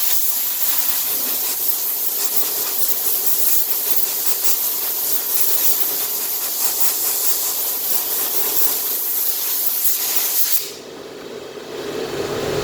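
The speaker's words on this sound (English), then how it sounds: "I'm going to go in here and cool it off a little bit with an air line" Compressed air hisses steadily from an air line onto hot metal during a 1974 Charger cowl repair, a loud continuous broadband blast that cuts off near the end, leaving quieter room noise.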